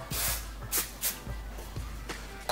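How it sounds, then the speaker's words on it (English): Hairspray hisses onto hair in a series of short, close bursts, several quick sprays with brief pauses and soft handling noises between them. "So I'm just giving it a spray."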